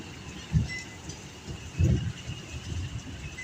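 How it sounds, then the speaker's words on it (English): Low rumbles of thunder roll in twice during a tornado storm, a short one and then a heavier, longer grumble, over a quiet background hiss. "Right where the thunder's coming from the worst."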